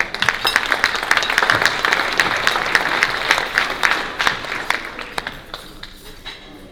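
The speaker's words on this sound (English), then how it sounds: "Let's give them a round of applause." A conference audience at a housing policy event gives a round of applause for a state senator, individual claps distinct and close, loud at first then thinning and tapering toward the end.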